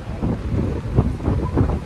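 Strong outdoor wind in Sydney buffets the microphone in loud, gusty rumbling surges that rise and fall over the short stretch, with no voices present.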